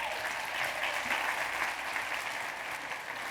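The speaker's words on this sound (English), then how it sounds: "Clap for that." Audience in a business seminar room applauding, a dense, steady wash of many hands clapping at moderate level throughout, with no voices over it.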